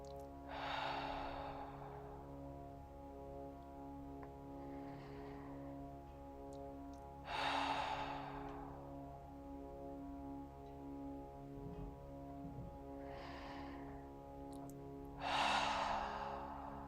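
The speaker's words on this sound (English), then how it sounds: "and just take 3 deep breaths." Three slow, deep breaths taken close to the microphone in a quiet room, each a long airy inhale and exhale spaced several seconds apart, with a steady low hum underneath.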